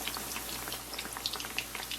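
Sweet bite-size tikkiyan sizzle in hot oil, a steady close crackle with scattered pops and bubbling spits, continuous and fairly quiet with no voices.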